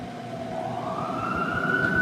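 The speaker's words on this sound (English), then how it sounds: "Ambulance and fire truck siren, passing by city approaching noise clip" Emergency siren from an ambulance and fire truck passing through a city, a loud continuous wail rising in pitch as it approaches, alone without voices.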